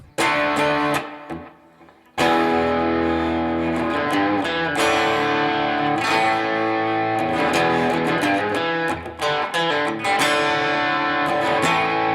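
A distorted electric guitar plays a dirty rhythm tone through an effects setup, chunky chords ringing loud and close, with a short pause early on before strumming resumes.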